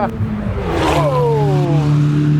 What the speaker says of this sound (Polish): jesteśmy na Silesia Ring. E, na torze samochodowym, torze wyścigowym